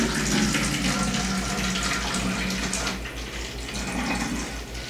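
Coloured water pours steadily into containers and spray bottles for a preschool winter science activity, a continuous close splashing stream with a low rhythmic hum beneath.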